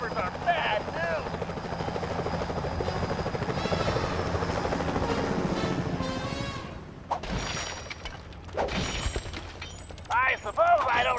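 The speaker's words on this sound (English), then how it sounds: "Those security choppers are bad news." Security helicopters in the Sly Cooper: Thieves in Time game on PS3 give a steady rotor drone with whirring and game sound effects, while voices speak over it, followed by sharp crashing impacts.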